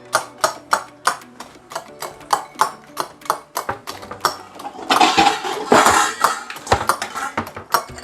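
A metal spoon repeatedly strikes chocolate pieces in a bowl with sharp, rhythmic clinks and cracks, then shifts into a denser, scraping rattle of stirring and crushing before the tapping resumes.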